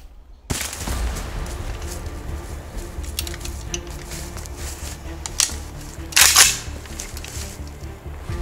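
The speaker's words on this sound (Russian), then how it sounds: "Слышите, ребят, стреляют!" Distant gunfire in a forest in the Chernobyl zone, heard as a few scattered sharp reports against a steady outdoor background, with one louder burst of noise later on.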